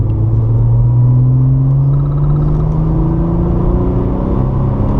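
A Porsche 997 Targa 4S accelerates on a racing circuit, its engine note a loud, continuous rumbling drone that climbs steadily in pitch as revs build, heard from inside the car.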